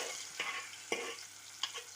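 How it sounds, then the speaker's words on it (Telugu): Spices tempering in hot oil for a greens, mango and tomato tamarind curry, a soft continuous sizzle broken by three sharp scrapes of a spoon against the pan. "తాలింపు చేస్తున్నాము"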